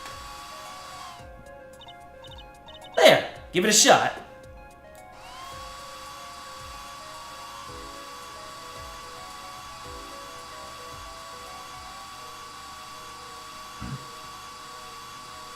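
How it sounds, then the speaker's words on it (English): A hair dryer blasts wet plaster in the Apollo Justice: Ace Attorney video game, a steady whirring drone running for the whole stretch, briefly broken by two loud bursts and a short spoken line. "Just press space to blast that dryer"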